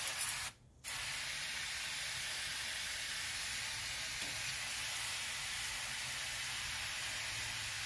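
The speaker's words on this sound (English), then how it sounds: "So I'm just gonna spray it with some brake cleaner" Brake cleaner sprays onto a part of a 1982 Mercedes 300SD during suspension and fuel sending unit work: a loud, close, continuous aerosol hiss with one brief pause near the start, no speech.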